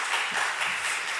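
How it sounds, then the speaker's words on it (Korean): A church congregation at a Friday prayer service applauds its pastors in a brief burst of dense, moderately loud clapping with no voices. "우리 목회자들께 박수 한번 쳐주십시오."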